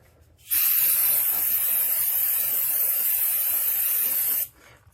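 A single sustained hiss of brake cleaner sprayed onto the front brake parts of a 2006-2016 Chevrolet Impala, loud and close, lasting about four seconds before stopping abruptly.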